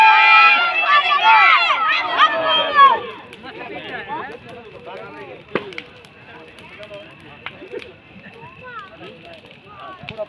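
A dense crowd of children clamours at a tribal Holi bonfire festival at night, with loud overlapping shouts and excited voices that suddenly drop away into scattered distant chatter, cracks and faint background noise.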